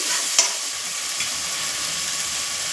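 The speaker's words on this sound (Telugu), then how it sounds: "పచ్చివాసన పోయినంత వరకు బాగా ఫ్రై చేసుకోవాలి" Onion with ginger-garlic paste frying in oil for chicken fried rice, a continuous bright sizzle close up with a single sharp spatula tap early on, no voices.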